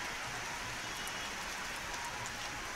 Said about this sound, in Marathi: आज रायगडसह रोहा इथे मुसळधार पावसाची सुरू होती